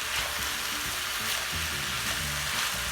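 Paneer fried rice with vegetables is stir-fried in a pan, a steady close sizzle with soft scraping and stirring knocks from the spoon, with no voices.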